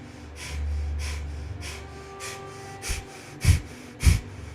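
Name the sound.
breath of fire yoga breathing, rapid panting through the nose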